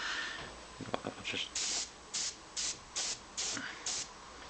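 An airbrush sprays a paint basecoat in short bursts, about six evenly spaced hissing sprays after some quieter handling noise, close and clear with no talking.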